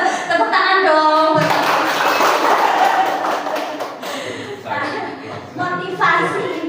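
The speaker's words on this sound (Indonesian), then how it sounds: "Tepuk tangan dong." Children in a classroom clap their hands in a loud burst of group clapping lasting a few seconds. Voices speak just before and after it.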